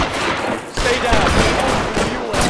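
Rapid gunfire in the LA Noire video game, a dense, continuous barrage of overlapping shots at steady loudness across the whole span, with a brief dip before the volley resumes.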